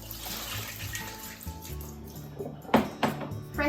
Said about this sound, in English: Hijiki seaweed, drain it.